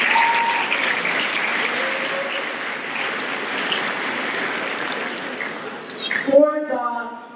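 Students at a high school spring awards assembly applaud together, a broad, sustained roar of many hands clapping that swells toward the end and is then cut off by a voice.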